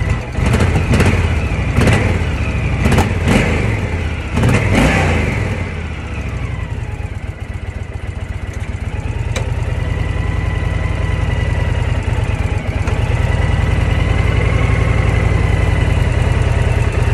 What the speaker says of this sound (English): You and me have successfully started our motorcycle.